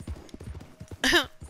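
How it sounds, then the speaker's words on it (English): Rhythmic hoofbeats clop steadily, interrupted by a short loud horse snort or grunt in Red Dead Redemption 2. "Oh, that horse grunting."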